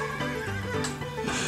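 A horse in the Wild West online game New Frontier lets out a loud, close, shrill neigh lasting about a second and a half, with faint game ambience beneath.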